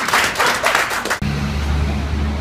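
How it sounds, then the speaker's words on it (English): A small group claps briskly for about a second, then the sound cuts abruptly to a steady low electrical hum. "Clap for them!"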